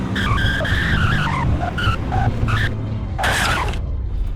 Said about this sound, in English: I'm obviously gonna have to spin out because I forgot to turn traction on